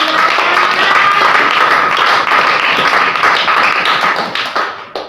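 Loud, dense, sustained clapping from a church congregation honoring Jesus Christ during a sermon, continuous applause that fades slightly at the end.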